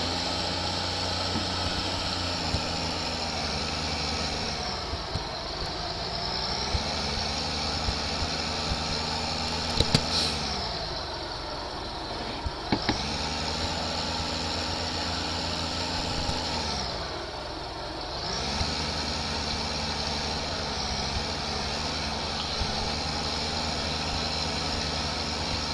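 A tractor engine in Farming Simulator 15 drones steadily while towing a heavy load, with its pitch dipping and recovering several times under the strain.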